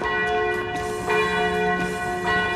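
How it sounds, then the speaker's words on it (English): Church bells ring at the Basilica of St. Michael in Krakow, a sustained, steady peal of overlapping tones with rhythmic strikes, heard clearly at moderate distance outdoors near gardens, with no talking. "Some lovely gardens, we can hear the bells going."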